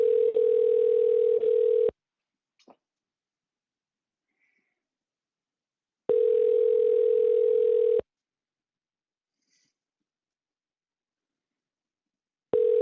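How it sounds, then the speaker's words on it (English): A telephone line rings while a call waits to reach voicemail: three long, steady electronic ring tones, each about two seconds long, separated by silent gaps of about four seconds, clear and alone. "Too many rings. Even for a voicemail, it's too many rings."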